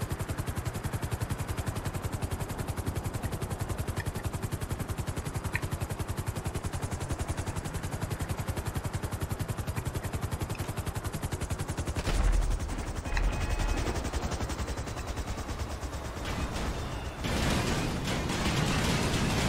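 Dense, continuous rattling gunfire over a steady helicopter rotor thrum in GTA V Online, loud and sustained throughout, with a brief burst of heavier bangs partway through.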